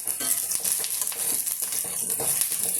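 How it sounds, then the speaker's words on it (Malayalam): Chopped onions frying in a pan, a constant bright sizzle with scraping and stirring taps of a utensil against the pan, close and steady. "സവാള ഒന്ന് ചെറുതായിട്ട് മൂത്ത് വരട്ടെ"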